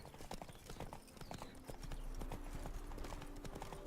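Rapid clip-clop of a horse galloping in The Witcher 3: Blood and Wine, steady hoofbeats over game ambience and music, with a rising wash of background sound partway through.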